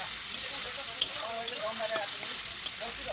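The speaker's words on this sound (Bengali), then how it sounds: "এরপর আমি ভেজে রাখা আলুগুলো দিয়ে দেব। তারপর এটাকে ভালো করে নাড়াচাড়া করব।" Fried potatoes being stirred into spiced oil for a catla fish curry, giving a steady soft sizzle with a few faint clinks of the spoon, close by and without talk.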